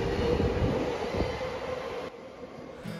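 Subway train rumbling as it pulls away from the platform at Aoyama-itchome Station in Tokyo, a loud steady roar with a faint whine, easing off toward the end.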